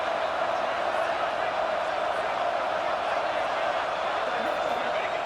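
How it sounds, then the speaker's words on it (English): A stadium crowd in College Football 26 gives off a steady, loud roar of cheering noise, sustained evenly and without pause from start to finish. "here comes the noise. This crowd is trying to inspire this defense to make a big red zone stop"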